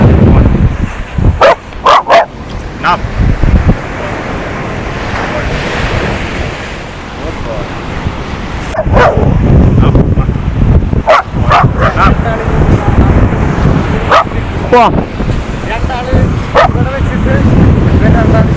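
A dog barks in sharp bursts at unfamiliar people, several loud close barks among crashing surf and gusty wind noise, with people talking now and then.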